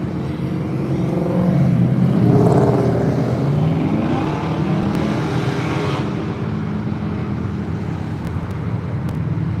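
A Corvette passes by on Woodward Avenue, its engine swelling loudly to a peak around the pass and then fading away, with a steady background of street traffic noise.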